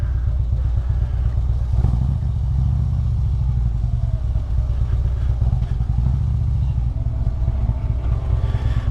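A motorcycle engine drones steadily and fairly loud throughout a Fourth of July ride, a continuous low rumble with wind and road noise.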